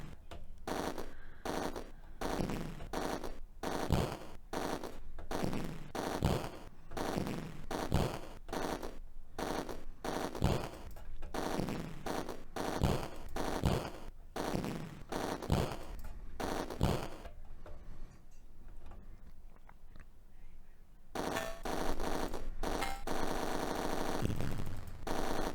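Gunfire in the Atari ST rail shooter Roller Coaster Rumbler: a long run of steady, rhythmic electronic shots, a brief lull around the twentieth second, then rapid fire again, loud and without talk.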